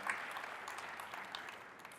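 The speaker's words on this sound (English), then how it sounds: "Let's give Nate a round of applause" An audience at a Salesforce business presentation gives brief, faint applause, a soft wash of scattered clapping heard from a distance that thins out toward the end.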